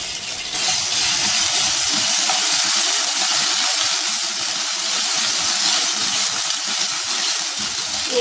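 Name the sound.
cumin and ginger garlic paste sizzling in oil in pan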